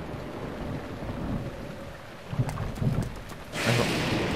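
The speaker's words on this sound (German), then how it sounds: "Schlagen Blitze ein." Thunderstorm in Zelda: Breath of the Wild, with steady rain and low rumbling thunder throughout, sharp lightning cracks midway and a loud strike near the end, with no voices.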